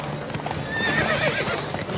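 Galloping horse hooves during a horse race in The Witcher 3, a quick clip-clop rhythm with a brief whinny, loud and close, with no talk.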